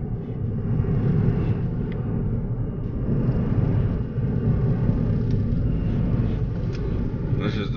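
A car drives along a residential road, a steady low rumble of engine and tyres heard from inside the cabin, with a person talking throughout.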